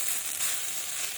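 Leftover rice stir-fried in ghee in a pan gives a steady, close hiss of sizzling that runs unbroken for about a second, with no talk over it.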